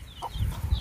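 Large hens in a coop cluck in short, close bursts, with a few quick clucks in under a second and faint chirps above them.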